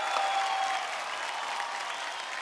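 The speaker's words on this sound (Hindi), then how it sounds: "इनके लिए जोरदार तालियां।" Studio audience on a television kitchen cooking competition set claps steadily, an even, moderately faint wash of applause with no break or swell.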